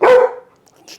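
A household dog gives one loud, close bark that quickly tails off, followed by a second of near-quiet with a faint rustle.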